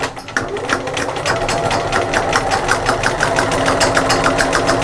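Sewing machine running a seam on a bag, a loud, close, continuous rapid needle clatter with an even rhythmic pulse throughout, no talking.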